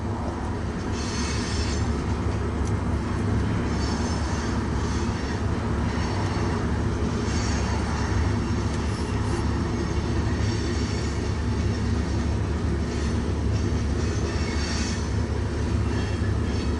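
Freight train rolling past at Ashland, Nebraska, a loud continuous rumble of wagons with wheel squeal and clatter throughout, close and unbroken, with no voices.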